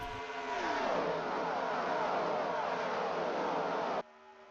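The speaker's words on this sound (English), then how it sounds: "As they come back around, the leaders are still trying to figure out some sort of way to get past Steve Park and Jack Sprague" NASCAR stock car engines roar at full throttle, one car sweeping past close with a steady howling drone before the sound cuts off abruptly.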